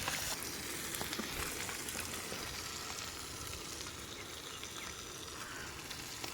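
Fish fries on a tava outdoors at the edge of a forest, a loud, continuous oily sizzle that crackles steadily from start to finish without any voices.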